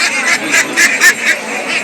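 Campbell ducks, 75 days old, quack at a market in short, repeated nasal bursts, several calls in quick succession, close by and fairly loud.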